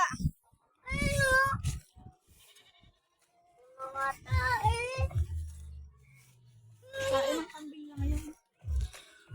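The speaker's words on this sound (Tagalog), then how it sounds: "Umiiyak na yung mga kambing oh." Goats bleat several times in wavering, nasal cries, some overlapping, with short pauses between calls, on a farm field as heavy rain arrives.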